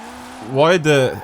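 Car engine in Forza Horizon 4 revving hard, a rising then falling harmonic whine that climbs sharply, dips briefly and surges again over about a second, loud and close.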